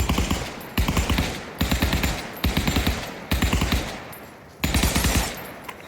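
An STG-44 rifle in the Pavlov VR game fires several rapid automatic bursts, loud and close, each a quick string of sharp shots separated by brief pauses.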